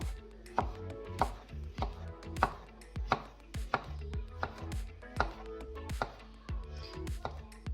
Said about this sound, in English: Peel the banana and then just chop that into bits.